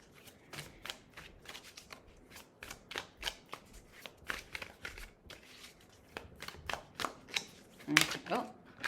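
Tarot cards shuffled by hand in a run of quick, crisp riffling bursts, fairly close. Mixed handling noises get louder toward the end, and a voice speaks faintly underneath.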